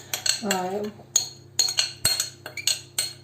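A utensil scraping and clinking against a bowl while stirring apple filling with starch, several sharp metallic taps spaced irregularly, with a short spoken phrase near the start.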